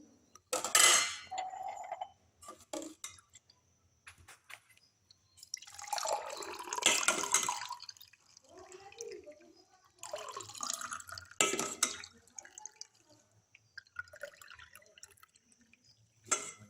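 Rasna fruit drink is strained in a kitchen, with intermittent liquid pouring and dripping, clinks of utensils and dishes, and scattered quiet handling noises.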